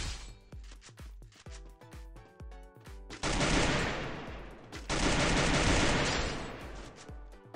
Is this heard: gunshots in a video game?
yes